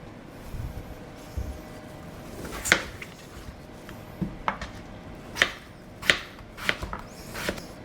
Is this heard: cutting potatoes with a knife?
yes